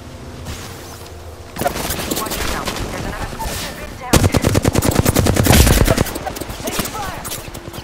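Rapid bursts of automatic gunfire hitting the player in a battle royale video game, loud rattling volleys that intensify in the second half, with a voice speaking briefly underneath.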